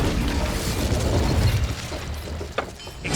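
An Incendio fire spell cast in the Hogwarts Legacy video game on PlayStation 5 bursts out as a dense, roaring rush of fiery noise with low rumble, holding steady for several seconds before a couple of sharp crackling pops near the end.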